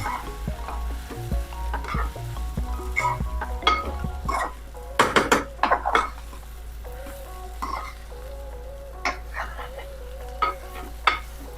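Sliced tondli sautéed with dry coconut and salt sizzles in a pan, with frequent close metal spatula scrapes and clinks against the pan over a constant low hum.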